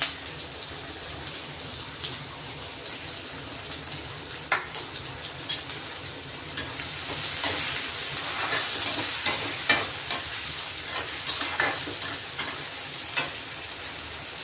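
Chopped onion fries in a pan with hot oil, giving a continuous sizzle that intensifies midway, punctuated by repeated scraping knocks of a spoon stirring against the pan.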